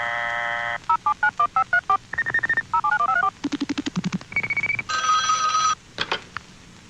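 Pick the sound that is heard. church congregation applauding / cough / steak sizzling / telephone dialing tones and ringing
telephone dialing tones and ringing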